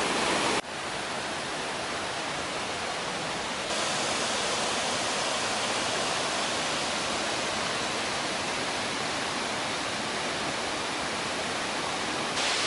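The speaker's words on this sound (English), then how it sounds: "I prefer to hear the waterfalls." A waterfall near a hammock campsite on the Swaggin trail gives a steady, dense rushing roar that carries on without a break, with no talking.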